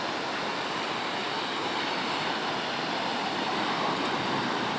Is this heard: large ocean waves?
yes